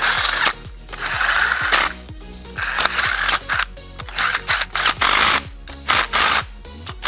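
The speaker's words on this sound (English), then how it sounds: "I'm going to play with those bolts a little bit, get everybody lined up right. And thread them in." Bolts are threaded into the manifold heat shield of a Honda GX630 engine, likely with a ratchet whose rapid clicking comes in close, loud repeated bursts separated by short pauses.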